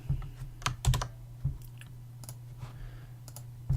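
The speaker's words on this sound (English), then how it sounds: "The way I typed 8 was I just pressed the number 8." Number keys pressed one at a time on a computer keyboard, giving sharp plastic clicks in an uneven rhythm over a steady low electrical hum.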